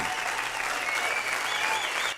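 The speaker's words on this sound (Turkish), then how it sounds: "bir moral alkışı lütfen" A television game-show studio audience claps steadily in a dense, even burst of applause for a contestant, which cuts off abruptly at the end.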